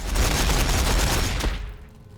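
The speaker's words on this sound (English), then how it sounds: "Warbikers firing" Rapid, dense bursts of gunfire from Ork warbikers in the Warhammer 40,000 video game, a loud continuous fusillade that cuts off abruptly near the end.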